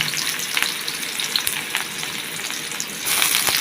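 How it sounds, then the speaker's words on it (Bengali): Green chilies and okra fry in hot oil, a loud continuous close sizzle with brief crackling bursts that swells louder near the end as the pieces hit the pan, no voices. "কাঁচামরিচ দিয়ে দিলাম, ঢেঁড়সগুলো দিয়ে দিলাম।"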